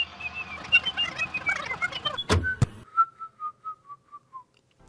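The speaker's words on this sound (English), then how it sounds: "I will be whistling the ABCs." A person whistles the ABC song melody alone, a run of short clear notes that ends in a longer descending series of soft whistled tones, after a couple of sharp knocks.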